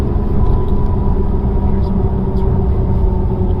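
A 2021 Acura TLX Type S, turbocharged with all-wheel drive, drones with a steady low engine and exhaust rumble and road noise while cruising, loud and continuous from inside the cabin.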